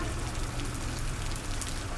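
Steady heavy rain falls during an outdoor ordination ceremony and alms-giving event in Xaisomboun, a dense, continuous hiss and patter filling the whole soundscape with no voices.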